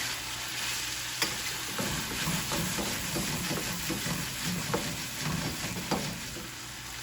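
Chicken and sweet potatoes fry over high heat in a pan with a loud, continuous sizzle, and the scrape and shuffle of stirring runs through it at close range.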